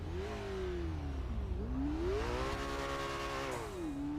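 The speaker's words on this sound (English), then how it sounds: "This car sounds fucking amazing." A car engine revving in a modded GTA 5 game, rising and falling through several throttle swells with a steady, fairly quiet drone and no talking.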